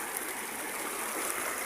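A mountain river in the Sierra Madre rushes steadily with no pause, a broad even hiss of flowing water heard close and alone.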